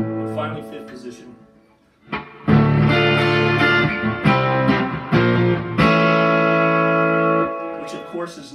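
Fender Squier Affinity electric guitar on its neck pickup, played clean with strummed chords ringing and sustaining loudly after a brief pause, several chord changes with dense harmonic tone.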